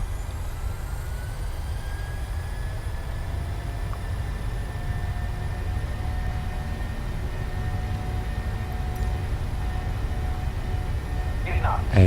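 Steady, loud rumble of Boeing 737 jet engines on a takeoff roll in MSFS2020, holding a constant roar with a faint rising whine throughout.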